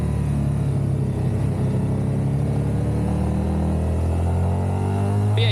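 A Triumph Tiger 1200 Rally Pro motorcycle engine hums steadily in first gear while riding through a sweeping uphill bend, a continuous low rumble with wind, close and moderately loud without talk.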